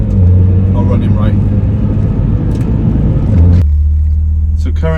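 A tuned car on AEM gauges idles with a steady, loud low rumble that holds even before cutting away near the end, while someone talks over it.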